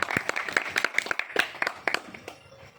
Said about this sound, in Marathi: सर्वांनी टाळ्या वाजून त्याचं अभिनंदन करा